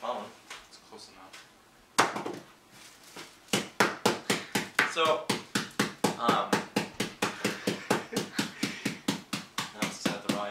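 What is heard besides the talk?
phone used as a hammer to crush food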